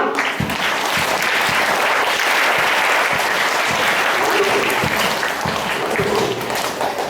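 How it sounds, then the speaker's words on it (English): A seminar audience gives a round of applause, dense continuous clapping at a loud, steady level with a few distinct nearby claps standing out. "give yourself a round of applause"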